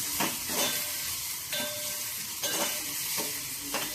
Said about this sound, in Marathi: आपण हे चांगलं कांदा परतून घेणार आहोत